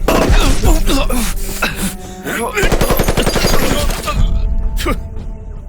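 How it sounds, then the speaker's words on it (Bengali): Loud bursts of rapid gunfire in a Chinese action film scene crackle in quick repeated volleys, dense and close, with sharp impacts and a final lone shot. "গুলি!"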